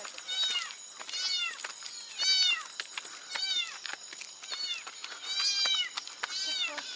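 Several cats in Thailand meow loudly and repeatedly, a string of rising and falling yowls close by, one after another with no talking.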